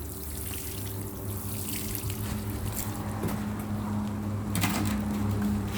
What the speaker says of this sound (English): A rain nozzle such as this on this watering can will ensure that you do not wash too much soil away